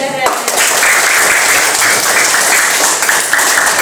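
A classroom of students claps for a classmate, a loud, steady wash of applause that stays even throughout, with no talking.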